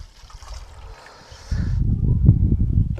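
Faint clinking is followed by diluted hydrochloric acid pouring into a boiler-cleaning apparatus, a steady gurgling stream that continues to the end.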